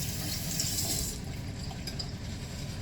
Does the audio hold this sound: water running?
yes